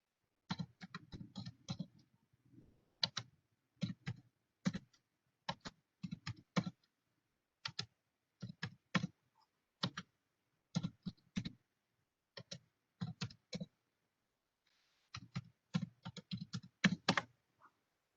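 Computer keyboards clack in short, close bursts of rapid keystrokes separated by brief pauses as students type in a classroom; nobody talks.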